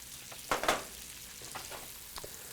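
Chopped onions cooking in unsalted butter in a pan, a soft low sizzle with a few brief stirring scrapes, faint and close, no voices.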